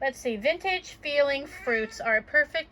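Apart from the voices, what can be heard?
None of the usual background noises is heard.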